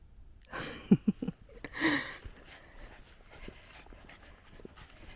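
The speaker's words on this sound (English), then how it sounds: "A happy doggy." A dog pants and yips close by in a few quick bursts, then quieter breathing and rustling continue in the background.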